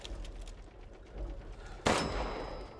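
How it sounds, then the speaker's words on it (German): A bell in Resident Evil Village's Castle Dimitrescu, struck once with a sharp metallic clang that leaves a thin ringing tone sustained behind it over low background rumble. "Da ist eine Glocke."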